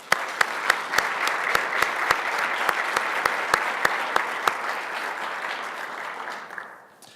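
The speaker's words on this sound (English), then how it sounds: "Let's give them a round of applause." A luncheon crowd welcoming U.S. Olympic Committee guests gives sustained applause, with sharp evenly spaced claps cutting through the dense clapping before it tapers off toward the end.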